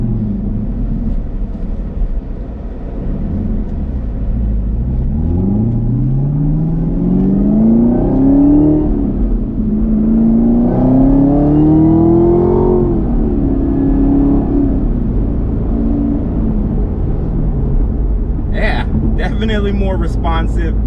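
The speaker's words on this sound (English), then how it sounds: "Seems like that supercharger's whining a little bit more." A Camaro ZL1 with a ported throttle body accelerates up through the gears from inside the cabin, its supercharger whine rising in pitch over a loud engine drone, easing between shifts, with talking over it and a short burst near the end.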